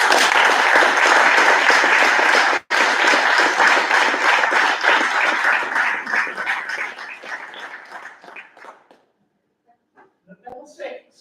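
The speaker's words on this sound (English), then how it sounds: "I hope you give a round of applause." Audience at a community governance graduation ceremony applauding: dense, steady clapping that thins out and fades near the end, followed by a few scattered claps.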